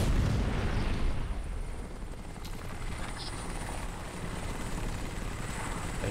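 A helicopter in the video game Crysis, a loud continuous rotor roar with rumbling low thuds, steady throughout with a slight dip midway and no talk over it.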